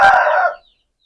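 A single short, loud crow from a home-bred Aseel rooster, close by, cut off after about half a second and followed by silence.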